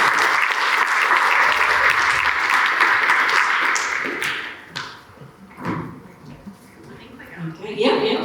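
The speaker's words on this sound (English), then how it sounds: "can we give them a round of applause" An audience at a women's day forum applauds, a full steady clapping for about four seconds that thins out and fades, followed by scattered thumps, shuffling and voices nearby.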